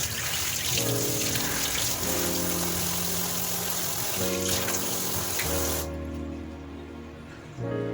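Tap water runs steadily over fresh coriander and mint leaves being washed in a sink for chicken dum biryani, a continuous close gush that cuts off near the end.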